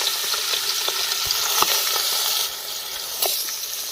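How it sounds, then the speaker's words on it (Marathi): Mutton pieces frying in hot oil sizzle with a steady, close hiss, broken by a few brief scrapes and knocks as a ladle stirs them, all without talk. "पळीच्या सायाने व्यवस्थित हलवून घ्यायचं. हे व्यवस्थित परतलं गेलं पाहिजे."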